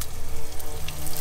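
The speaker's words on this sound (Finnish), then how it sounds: "Lihapullia tänne pannulle paistumaan." Meatballs frying in a pan for a tapas spread, a dense steady crackle and hiss running throughout, close and fairly loud with no voices over it.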